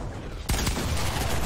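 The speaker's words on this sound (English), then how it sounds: "No way he's shooting me through that." Gunfire in the Fortnite video game: after a muffled opening, a sudden loud burst of rapid shots breaks out and keeps rattling to the end.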